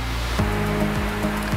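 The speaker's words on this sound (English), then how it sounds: "That sound you're hearing is the fan." An electric fan runs close by with a steady broadband whoosh and low hum, its tone shifting slightly at intervals.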